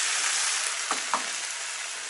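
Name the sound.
pork, onion and marinated pickles frying in pan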